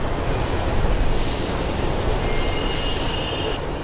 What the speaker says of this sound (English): So normally I'm meant to ride this train right to the end